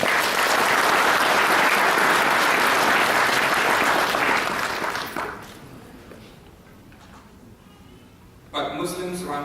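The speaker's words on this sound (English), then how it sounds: "Let's give us a big round of applause." Conference audience at the IMSA-MISG Muktamar 2011 gives a loud, dense round of applause that holds steady for about five seconds, then drops away to a quiet room before a brief sound returns at the end.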